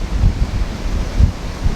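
Strong coastal wind buffets the microphone in low rumbling gusts, steady and loud, with a broad hiss of moving air and no voices.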